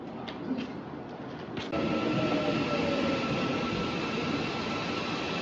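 A subway train at a university metro station in Seoul: quiet station ambience gives way to a sudden louder, sustained rumble with a faint high wheel squeal as the train runs through the platform.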